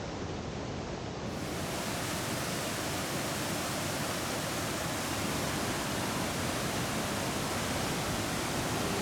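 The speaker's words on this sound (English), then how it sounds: "We pass the waterfall that is actually a serious rapid." A serious river rapid in rural Laos, at a spot called a waterfall, rushes in a dense, unbroken roar of churning water that stays loud and steady throughout, with no voices.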